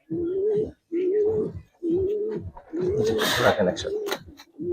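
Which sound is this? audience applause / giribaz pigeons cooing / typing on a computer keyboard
giribaz pigeons cooing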